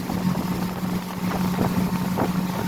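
A 2021 Bentley Cruise 220 pontoon boat running at speed on a Suzuki 140 outboard gives a steady, close engine drone with heavy wind rush across the microphone.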